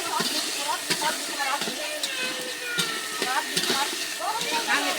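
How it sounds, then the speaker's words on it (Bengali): Potatoes fry in a pan over an outdoor village stove, a continuous sizzle broken by sharp stirring scrapes and clatters, with a voice faintly in the background. "আলুগুলো ভাজা নিতেছি।"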